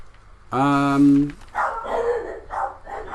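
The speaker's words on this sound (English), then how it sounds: "Dogs, quiet!" A dog barks and whines in one sustained, close burst, followed by someone talking over a Diablo 3 game session.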